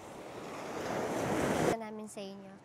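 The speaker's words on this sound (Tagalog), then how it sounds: "Lakas ng alon." Strong ocean waves wash onto a beach at Pagudpud in a loud, rushing roar that builds and then cuts off, followed by someone speaking briefly.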